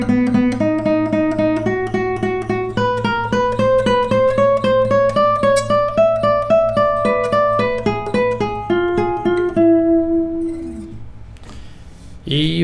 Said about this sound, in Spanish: Y bueno, toda esta parte lento suena así.